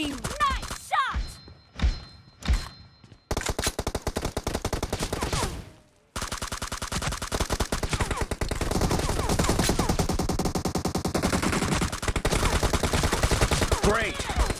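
Rapid automatic gunfire from a BGMI battle royale match rattles in long, dense bursts, broken by a couple of single shots and a brief pause, loud and continuous, with commentary voices mixed underneath.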